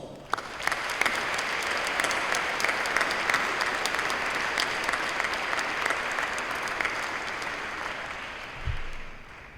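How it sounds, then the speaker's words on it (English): An academic convocation audience gives the faculty a warm round of applause: dense, even clapping from a large crowd, sustained for several seconds and tapering off at the end, heard on its own without talk. "Please give our faculty a warm round of applause."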